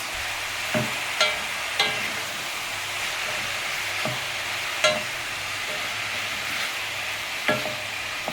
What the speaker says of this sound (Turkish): Hepsini güzelce kavuracağız arkadaşlar.